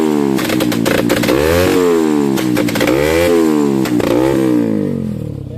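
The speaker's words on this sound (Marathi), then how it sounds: "गाईज हे बघा बाईक, आणि बाईकचा एक मिनिट आवाज दाखवतो तुमचा." A loud modified motorcycle engine revs hard and close, climbing and dropping in repeated throttle blips with a raw, crackling edge, with no talking.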